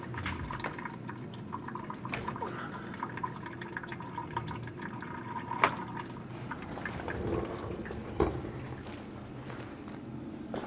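Oily water drains and drips from the radiator fans of a Nissan 350Z during a radiator replacement, faint and close, with scattered drips and small splashes in a quiet garage.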